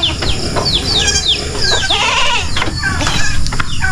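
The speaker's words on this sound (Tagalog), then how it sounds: "Ito naman yung ibang kambing natin." Several goats bleat close by in quick succession, with chicken-like clucks and farmyard rustling mixed in.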